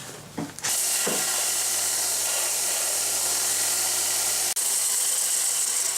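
A part for a propane forge burner is sanded on a powered machine, a loud, steady broadband whir that starts abruptly, runs continuously with a brief cut near the end, then resumes, close by and without talk.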